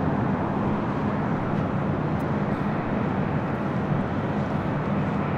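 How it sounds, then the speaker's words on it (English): A Philippine Airlines Boeing 777-300ER landing at Los Angeles International Airport on arrival from Manila gives off a constant, dense, broadband jet rumble at steady loudness, close and continuous with no break. "the Philippine Airlines 777-300ER coming in from Manila"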